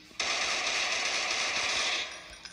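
Rapid sustained automatic gunfire from a gun in the sci-fi video game Space Isolation, loud and close, a continuous burst lasting about two seconds and then cutting off.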